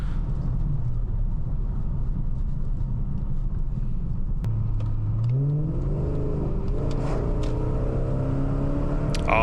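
A BMW E38 750i V12 accelerating hard, heard from inside the car: a steady broadband road roar beneath a smooth engine note that climbs through the revs, drops at an upshift, and rises again, loud and continuous with no speech.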